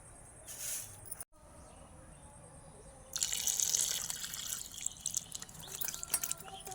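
Water is turned on to wash young pointed gourds (potol) in a Bengali home kitchen. After a few quiet seconds a tap starts and runs steadily, fairly faint, with a soft background hum.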